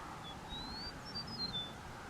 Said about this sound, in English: A species may also have a distinctive call or song, such as the eastern meadowlark